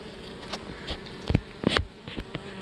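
Honeybees humming and buzzing around an open hive during an inspection, a steady close drone with individual bees zipping loudly past the ear now and then.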